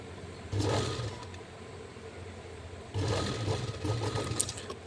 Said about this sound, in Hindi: पट्टी को डबल फोल्ड करना है और रख के एक बिल्कुल किनारे से एक सिलाई लगा देनी है